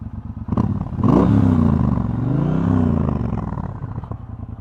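A 2018 Triumph Bobber 1200 runs on its stock exhaust, a deep, throbbing idle that swells with a short blip of the throttle before settling back, close and steady.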